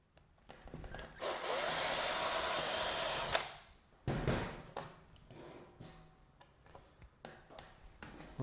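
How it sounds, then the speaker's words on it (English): A drill pre-drilling pilot holes for sheet metal screws whirs steadily and loudly for about two seconds, then stops, followed by scattered knocks and handling clatter. "We're going to be pre-drilling with a drill that's smaller than the threads on our sheet metal screws."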